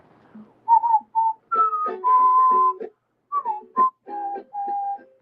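A person whistles a melody in short phrases, bright sustained notes with brief pauses between, clear and close with no talking.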